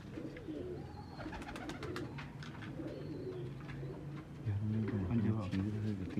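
Chuway pigeons from Sialkot coo in soft, low, repeated phrases. The sound is close but fairly quiet, with faint chirps and someone speaking over it.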